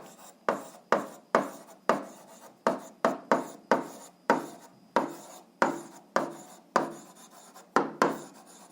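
Pen or pencil writing out a math solution on paper, a quick series of about fifteen distinct scratchy strokes, each sharp at the start then fading, close and clear with no talk.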